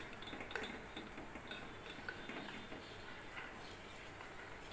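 A spoon stirs and scrapes a mixture of gooseberry and soapnut powders in a bowl, producing faint, irregular clinks and soft scraping close by, with no talking.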